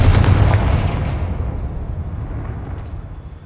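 Confringo fire spell blasts in the Hogwarts Legacy video game, a loud booming explosive burst at the start that rumbles and decays over a few seconds.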